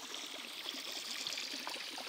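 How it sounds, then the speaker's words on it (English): Water runs down a small three-tier waterfall on a backyard scale RC trail course, making a continuous close trickling rush with no pauses. "I love the three-tier system here. Gives us a good natural waterfall."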